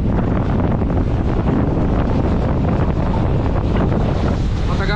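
Inside a moving Maharashtra state transport (ST) bus heading toward Ahilyanagar, a loud, constant rumble of engine and road noise with wind buffeting fills the cabin without pause.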